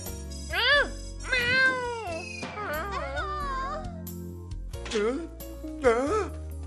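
Several drawn-out, wavering meows in a row, loud and close, over a low musical backing, sounding more like a voice imitating a cat than a real one.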